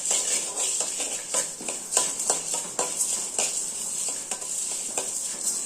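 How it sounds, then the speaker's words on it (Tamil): Cumin seeds and black pepper dry roast in a pan over low heat for sambar powder, with a steady hiss under repeated scraping stirs and light clinks of a utensil against the pan, close by and without speech. "மிளகு சீரகம் வறுத்தாச்சு இப்போ எடுத்துக்கலாம்"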